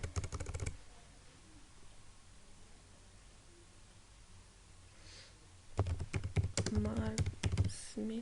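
Text is typed on a computer keyboard in quick bursts of crisp key clicks, one brief flurry at the start and a longer run near the end, with a quiet stretch between.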